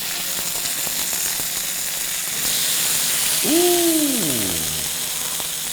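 A minute steak sizzles steadily in a hot pan, a constant close hiss that runs the whole time, with a voice briefly exclaiming partway through.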